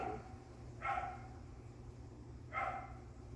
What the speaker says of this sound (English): listen to the dogs barking.